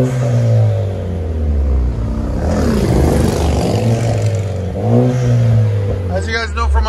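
A turbocharged 2016 Chevy Malibu with dual exhaust and a muffler delete revs loudly up and down nearby, its rumbling engine swelling and falling, with a voice heard at the end.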